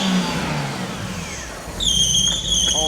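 A BMW E46 Clubsport engine runs with a faulty misfire and a bad belt, a rough mid-pitched drone that dips and then rises again, joined near the end by a sharp high squeal from the belt.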